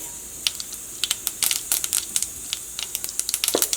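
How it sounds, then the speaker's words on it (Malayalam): Mustard seeds popping in hot coconut oil, a scatter of sharp crackling pops. They come irregularly and fairly close, building into denser bursts near the end, with no talking. "അപ്പോൾ വെളിച്ചെണ്ണ ചൂടായിട്ടുണ്ട്. ഫസ്റ്റ് കടുക് പൊട്ടിക്കട്ടെ."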